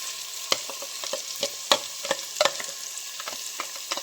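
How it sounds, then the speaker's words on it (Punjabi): Fried onions with ginger and green chilli paste stirred in a pan for mustard greens saag: steady close sizzling with repeated sharp spatula scrapes and clacks at an uneven rhythm, no voices. "ਹੁਣ ਆਪਾਂ ਇਹਦੇ ਵਿੱਚ ਅਦਰਕ ਵਗੈਰਾ ਪਾਤਾ ਇਹ ਤੇ ਇਹਨੂੰ ਵੀ ਮਿਕਸ ਕਰ ਲੈਣਾ"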